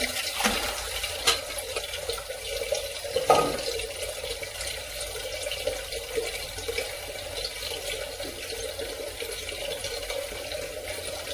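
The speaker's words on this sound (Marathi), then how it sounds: "पाणी टाकते अजून" Water poured steadily into a bowl of ingredients set to soak in a home kitchen, a continuous gentle splashing stream with one brief knock partway through and no talking.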